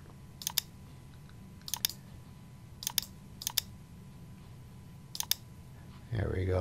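Computer mouse clicking while erasing segments in a 3D design program: five sharp, isolated clicks, two in a quick pair, spaced over a quiet room hum, ending with a burst of low rumbling noise.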